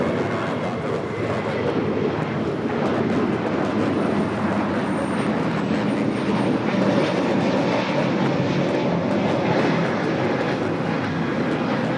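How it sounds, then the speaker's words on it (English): Spirit Airlines Airbus A321neo jet taking off from Los Angeles airport, a broad, continuous engine roar that holds loud and steady throughout, with no talk over it. "This is Spirit Airlines 613 taking off to Columbus on the A321neo"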